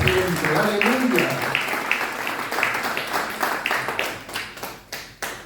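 Church congregation clapping in praise during a Spanish-language service, a dense steady applause with sharp individual claps that gradually thins and fades toward the end, with voices mixed in.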